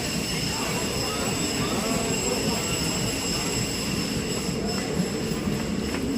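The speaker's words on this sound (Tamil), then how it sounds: "எல்லாரும் ட்ரெயின் கிளம்பிடுச்சு." At Mahe in Kerala a train pulls away from the station with a steady, loud rumble of rolling wheels and faint high squeals running through the whole stretch.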